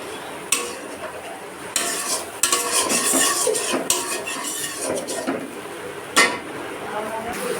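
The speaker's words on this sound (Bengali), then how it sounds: "মশলাটা একটু ভালো করে কষিয়ে নেব" Masala with rice flour being stirred in a pan for fish curry, repeated scraping and clinking of a spoon against metal over a light sizzle, close and fairly loud, with a voice talking faintly at times.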